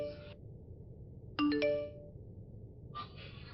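A short electronic chime plays in two quick tonal bursts, like a phone ringtone, over a low background hum, with a brief beep after.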